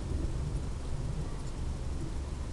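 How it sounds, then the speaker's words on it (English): A low, steady rumble of distant thunder on a rainy day rolls continuously, with a faint wash of rain hiss over it. "You hear the thunder."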